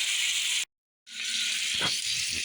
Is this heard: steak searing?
yes